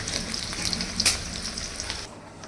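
Onions frying in hot oil for a duck curry: a close, steady crackling sizzle with a few sharper pops, cutting off abruptly just before the end.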